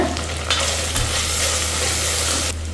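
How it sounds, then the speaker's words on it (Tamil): Onions sautéing in a pan for raw jackfruit biryani, a steady close sizzle and frying hiss running throughout with a brief stir clatter near the start, no voices. "வெங்காயம் நல்லா வதங்கட்டும்"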